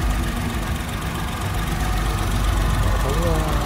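A 2010 Chevrolet Spark's 0.8-litre three-cylinder engine idles in a continuous, even rumble, with faint talking mixed in underneath.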